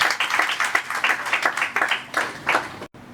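An audience at an early childhood education conference applauds to welcome a speaker, a dense steady clapping that runs for about three seconds before cutting off abruptly.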